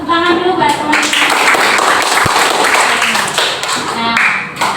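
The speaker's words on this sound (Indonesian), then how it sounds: "Tepuk tangan dulu buat teman-teman." Students in a classroom clap together in a short burst of dense, overlapping claps that fade toward the end, with voices mixed in.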